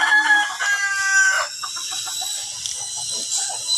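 Chickens in a backyard coop crow and cluck loudly and close by. A long rooster crow opens, followed by ongoing clucking and chatter from the flock.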